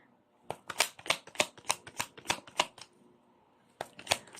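A deck of tarot cards being shuffled up close, a quick run of crisp riffling slaps in an even rhythm, then a short pause and a few more shuffles, with no talking.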